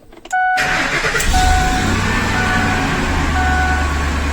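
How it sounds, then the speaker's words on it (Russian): A Lincoln Navigator engine cranks briefly and catches, then settles into a steady, loud idle close by, with no talking. "Завожу машину."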